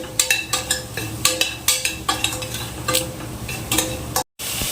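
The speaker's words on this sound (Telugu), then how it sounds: "జీరా పౌడర్ అండ్ కొంచెం సాల్ట్ ఇవన్నీ వేసి బాగా కలుపుకోవాలి" A spoon stirs cumin powder and salt into a kids' pulao in a pan, scraping and clinking against the metal in a quick, repeated rhythm over a soft sizzle, with a brief dropout near the end.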